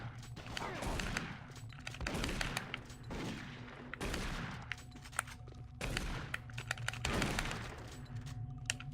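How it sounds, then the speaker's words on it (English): Shotgun fire in Doom 3 at close range: heavy blasts that repeat about once a second, each followed by a short decay, over a steady hum of game background. "Let's just get into a shotgun fight from this distance"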